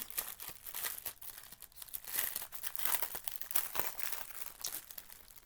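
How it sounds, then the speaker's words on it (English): Plastic packaging crinkles and rustles in close, quiet handling, with irregular crackly bursts running throughout and no talking. "More crinkling, sorry. But we all know crinkling is a good thing."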